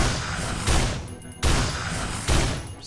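Loud shotgun-like blasts from the Enforcer in the Risk of Rain video game, fired at enemies, with three heavy booming shots in steady succession, each decaying into a noisy rumble.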